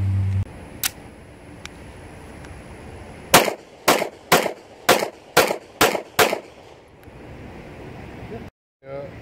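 Seven sharp, loud shots from a Remington R51 9mm pistol, fired in a steady rhythm about half a second apart, each with a brief echo. A single faint shot comes before them.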